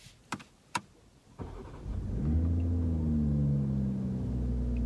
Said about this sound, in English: Here's a little cold start for you.